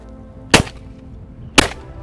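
Two sharp .410 shotgun shots at a simultaneous pair of clay targets, about a second apart, each a loud crisp crack with a short decay against a quiet outdoor background.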